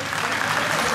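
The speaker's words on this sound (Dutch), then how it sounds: "Dames en heren, ook een applaus voor deze beide Thai boxers" An audience at a Thai boxing event applauds both fighters, a dense, steady wash of clapping that carries loudly through the whole moment.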